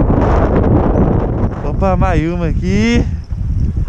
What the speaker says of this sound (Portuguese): O vento tá aumentando.